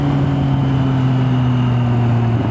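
A MV Agusta Brutale 800 motorcycle engine holds a loud, steady idle close by, a continuous low throbbing hum with no revving or pauses.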